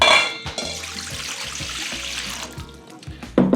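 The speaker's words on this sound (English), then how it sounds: "We start by adding all the water into the bowl." Water pours into a mixing bowl for Turkish börek dough, a continuous splashing gush with gurgling tone, close and fairly loud, ending with a brief clunk, no voices.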